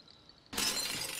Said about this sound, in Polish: O, i szybę rozbiłem.